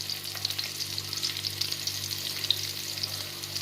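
Onions sizzling in a pan of oil for mutton fry curry, a steady close frying hiss with faint crackles and pops throughout, no voices.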